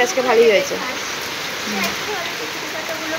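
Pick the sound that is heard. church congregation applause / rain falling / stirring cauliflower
rain falling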